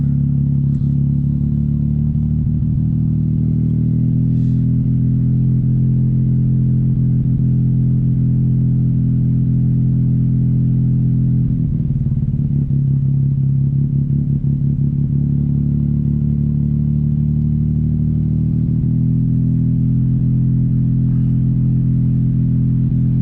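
A car engine idles steadily, dead cold and running rough, with a low, uneven exhaust rumble that roughens and stutters partway through, then settles back into a loud, continuous drone.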